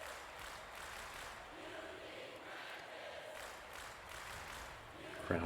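A basketball arena crowd jeers a player with a steady, loud roar of boos and shouts that fills the clip and rises briefly at the end.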